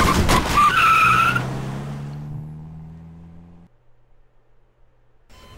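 An animated car skids and peels away with loud squealing tires that fade into a dwindling engine drone, followed by near silence and then a faint noise at the end.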